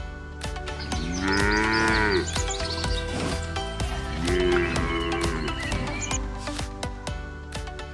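Two long, loud moos from cattle close by, rising and falling, over a busy background of clanks and knocking sounds.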